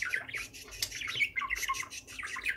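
A pet parakeet squawks and chirps in a rapid, restless series of shrill calls close by, fairly quiet overall with no talking.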